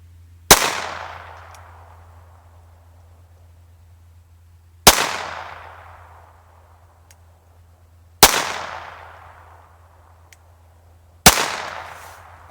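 Four sharp shots from a Taurus TX22 .22 pistol fired at a target, spaced a few seconds apart, each a loud crack with a decaying ring in open air.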